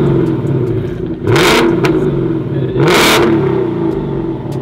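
Lamborghini engine revving with an audible whine, a loud steady idle broken by two sharp rising revs, close and alone.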